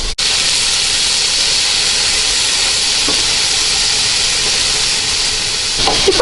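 Sliced zucchini sautéing in a frying pan over medium heat for a frittata, a steady close sizzle and hiss that runs throughout, with a few faint clinks.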